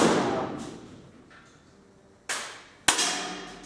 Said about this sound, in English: I see a boy with some sniper rifle and shooting